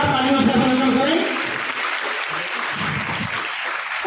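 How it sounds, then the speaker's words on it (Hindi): Audience applause at a school annual exam results and prize-giving ceremony, a dense steady clapping from a large crowd that eases slightly after the first second and carries on with voices mixed in. "जोरदार तालियों से अभिनंदन करें।"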